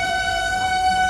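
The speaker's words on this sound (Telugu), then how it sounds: "పక్కన ట్రాక్లో వందే భారత్ ట్రైన్ వస్తుంది." A Vande Bharat train approaching on the neighbouring track near Renigunta Junction sounds its horn in a sustained, steady two-tone blast, loud and close over low rumbling rail noise.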